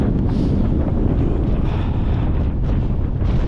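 Strong wind buffeting the microphone on a hill summit, a loud continuous low roar with no pauses.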